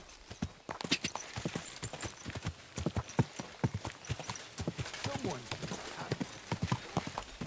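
Horse hooves clip-clop at a steady riding gait in the video game Kingdom Come Deliverance 2, the clear rhythmic strikes sitting close and prominent, with people talking over them.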